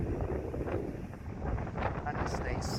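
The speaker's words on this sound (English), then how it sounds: "it's nice and breezy" Steady breezy wind rushes on a ferry crossing from Largs to the Isle of Cumbrae, a constant low buffeting noise with brief faint higher sounds near the end.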